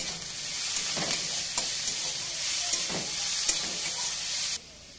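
Shredded cabbage and carrot sizzle loudly in a hot pan for chicken momo filling, a steady frying hiss broken by a few soft stirring scrapes, then stopping abruptly near the end.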